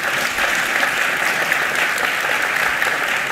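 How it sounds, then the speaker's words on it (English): Sustained applause from a conference audience at BazelCon 2019, a dense, steady wash of many hands clapping at full volume throughout, with no break. "So I just want to give a big round of applause for John and Dmitry."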